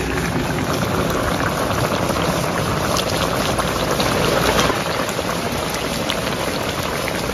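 Vegetarian thor-bori curry bubbling vigorously in a pot, a steady dense hiss of boiling with scattered pops and crackles throughout, close and continuous with no talking.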